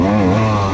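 A loud, close dirt bike engine holds a steady high-revving drone with shifting pitch during a pro-class cross-country race, filling the whole short moment with no voices.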